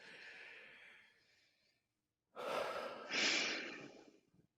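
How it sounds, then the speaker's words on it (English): A slow, deep breath drawn in and let out during a calm, heartfelt conversation between a pastor and a youth leader, heard close and fairly quiet, with a brief pause before a louder, breathy exhale. "Let's both take a deep breath right now"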